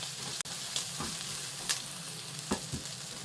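White onion being stirred in a hot pan, a steady close sizzle of frying broken by a few scraping strokes of the utensil, with no voices.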